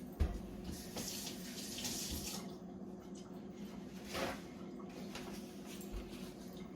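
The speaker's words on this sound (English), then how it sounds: "I'm gonna rinse my hands." Water runs from a kitchen tap as hands are rinsed under it, a soft continuous splashing stream with small irregular splatters, fairly faint and close.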